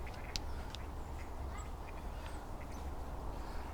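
Outdoor bird calls, a bluebird among them, sound as short chirps scattered over steady low background rumble, faint and moderately distant, with no voices.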